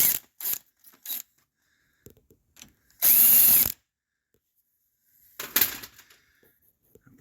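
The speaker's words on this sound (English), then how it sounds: "We're going to use a 10 millimeter to take this nut off." Socket wrench removing a nut with a 10 mm socket on a hub of a 5-hub hunting blind, close clicking bursts and one loud whirring power-tool run, separated by quiet gaps.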